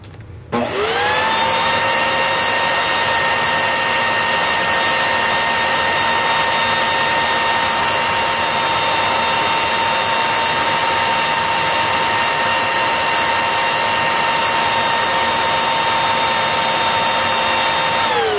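Bissell Heavy Duty 50C9 vacuum cleaner motor spins up quickly and then runs at a steady, loud whine with a strong airflow rush. It holds a constant pitch close by, with no talking over it.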